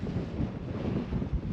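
Cold wind buffets the microphone outdoors in Reykjavik, a steady low rumbling roar with gusty swells, close and fairly loud, with no voices.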